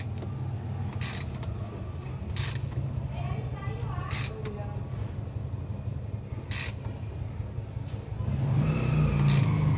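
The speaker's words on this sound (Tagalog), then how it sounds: "Ratchet na lang pang pasikip." A hand ratchet tightens a fitting on a 4x4 vehicle, giving a few sharp metallic clicks at spaced intervals over a low rumble, with voices talking nearby.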